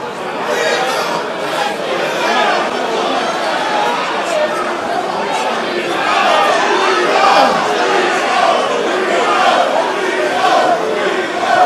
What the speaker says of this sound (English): infamous 3-0 chant